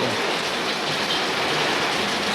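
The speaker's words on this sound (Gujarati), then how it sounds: "વરસાદ ને પવન બે આવી રહ્યા છે ફૂલ વરસાદ છે" Steady, dense broadband roar of heavy rain with wind, continuous and loud with a gusty wash over it, no voices.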